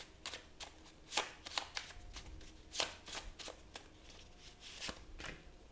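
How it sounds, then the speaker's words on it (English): Tarot cards shuffled by hand during a reading, a run of crisp riffling flutters and soft slaps in irregular bursts, close and clear with no talking. "I'm going to draw a few more cards."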